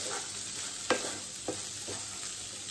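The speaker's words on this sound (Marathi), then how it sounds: "छान परतून घेऊयात." Sorghum usal being sautéed in a pan, with a soft steady sizzle and a few spoon-against-pan knocks as it is stirred, close and fairly quiet.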